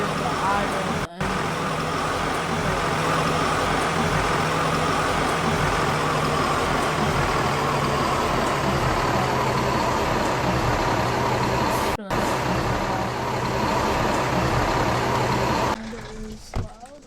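A locomotive engine idling in a train simulator game on a snowy map, a loud steady low rumble holding constant throughout with two brief dropouts and a change near the end.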